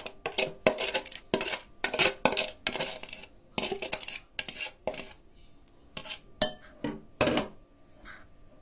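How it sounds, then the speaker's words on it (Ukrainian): Coconut flakes and condensed milk being stirred in a bowl for a no-bake cake, a close series of irregular scraping and clinking strokes of a utensil against the dish, with short pauses between and no talk. "Додаємо до, до неї згущене молоко і перемішуємо"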